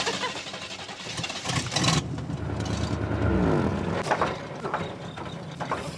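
A cold car engine cranks with a mechanical rattle, catches and revs up, then settles into a rough idle, loud and close.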